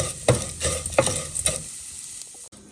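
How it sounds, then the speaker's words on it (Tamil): Vermicelli roasts in a pan for payasam, stirred in a few distinct scraping, rustling strokes over a light sizzle, then settling into near quiet. "சேமியா போட்டு நல்லா பொன்னிறமாக வருது வரைக்கும் வதக்கி எடுத்துக்கலாம்"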